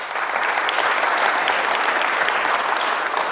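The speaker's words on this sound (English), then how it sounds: "Can we all start by giving a round of applause to the organizers for being fantastic?" A conference audience at a security event keynote gives a round of applause for the organizers, dense, even clapping from a large room that holds steady and loud for several seconds with no talk over it.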